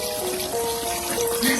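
Murky, dirty coolant drains out of an Evo 5 radiator in a steady close pour, heard over a constant background hum and tone, with no break in the flow.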